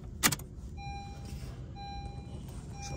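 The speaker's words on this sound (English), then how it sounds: "Now we're going to grab our new key and turn on ignition with that." Turning the ignition on a Honda with a newly programmed key gives a short jangle of keys. A repeating electronic chime or beep follows at a steady pace, with a low car hum underneath.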